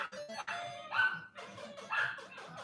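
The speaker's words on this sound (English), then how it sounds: "My dog's getting mad at everything." A dog barking indoors, several short, fairly faint barks and whimpers spread over a couple of seconds, with no talk.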